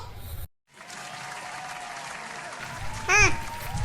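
Audience clapping at a Ganesha pandal stage entertainment program, a brief burst of moderately loud applause following a short silent gap, with a voice heard briefly near the end.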